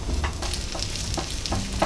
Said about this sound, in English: Once the oil is heated up, you should hear a sizzling start.